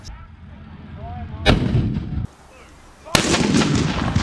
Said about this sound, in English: this huge monstrous shell, which is going to be fired from the gun on top of the Scorpion, our tracked vehicle